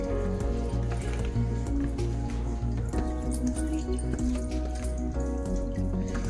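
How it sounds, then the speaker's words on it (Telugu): Water drained from grated ash gourd trickles and drips through a sieve, a steady wet patter running throughout with a low background hum. "ఈ వాటర్ని ఏం చేయాలంటే మనం ఇలాగ ఒక జల్లెడి పెట్టి ఇందులో వడకట్టించుకోవాలండి"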